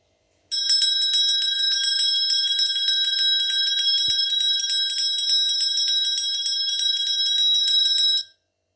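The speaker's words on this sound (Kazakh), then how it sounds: "Мектеп қоңырауы қалай дыбыс шығарады екен, тыңдап көрейік." An electric school bell rings continuously for about eight seconds, a loud, bright metallic ringing with a rapid trill that starts and stops abruptly, with no voices.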